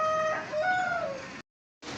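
Village fowl give a drawn-out, wavering call close by, rising then falling like a rooster's crow, that cuts off abruptly into silence before a further burst of sound returns.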